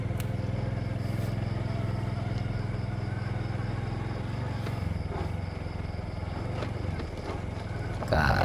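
A motorcycle rides a rough, punishing road between Ban Khu Doi and Phrao, its engine holding a steady, close, loud drone throughout, with bumps and rattles breaking in near the end.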